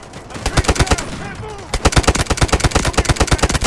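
Rapid bursts of automatic gunfire from the video game Delta Force, a short volley, a brief pause, then a longer sustained stream of loud, evenly spaced shots.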